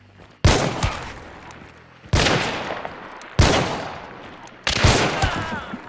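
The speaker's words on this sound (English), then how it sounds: "Are they coordinating these shots?" Lemat Carbine shots in the Red Dead Redemption video game: four loud, sharp blasts spaced over a few seconds, each trailing off in a long echoing decay.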